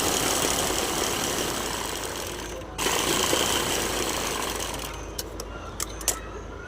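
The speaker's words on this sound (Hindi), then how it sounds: "अब हम नीचे की साइड भी सिलाई कर लेंगे।" A sewing machine stitches blouse fabric along the lower side of a neckline, a continuous close mechanical whir running steadily, briefly pausing and resuming, with a few light clicks near the end.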